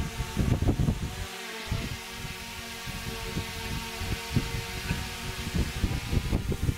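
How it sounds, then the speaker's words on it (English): A DJI drone's rotors whir steadily through takeoff, a continuous near hum with wind-like hiss and small fluctuations as it lifts a few feet and drifts. "start the rotors, and take the drone off"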